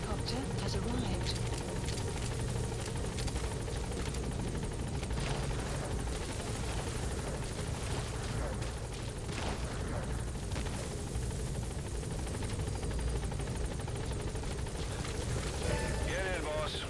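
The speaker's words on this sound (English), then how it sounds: "Support helicopter has arrived." Support helicopter from Metal Gear Solid V: The Phantom Pain arriving at the landing zone, a steady, continuous rotor and engine drone filling the scene, with talk over it.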